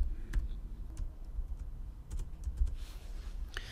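A computer keyboard is typed on while entering data in an Excel spreadsheet, producing a short run of quick, light, close key taps at an uneven rhythm.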